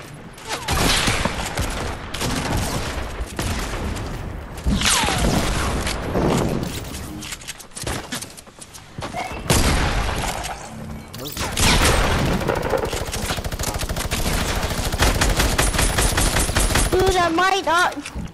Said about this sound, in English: I've got a gold minigun with 563 ammo.